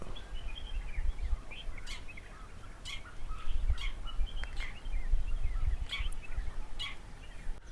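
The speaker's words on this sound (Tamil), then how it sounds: "பறவை கத்துற சத்தம் மட்டும்தான் கேட்குது" Birds calling around a quiet hillside village in Munnar, several short chirps and whistled notes scattered across the stretch, some near and some farther off, over a low rumbling outdoor background.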